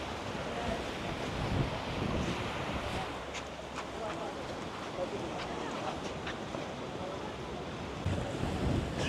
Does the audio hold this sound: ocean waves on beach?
yes